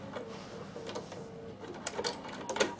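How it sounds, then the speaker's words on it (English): Sewing machine running an overlock stitch on a fabric tissue box cover, short bursts of rapid mechanical clatter and whirring with brief pauses, growing busier toward the end, close and moderately loud. "I'm going to do my overlock stitch. So 3 straight stitches and a zigzag."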